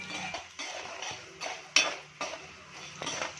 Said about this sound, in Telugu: బాగా రెండు నిమిషాలు బాగా వేగేదాకా కలుపుకోవాలి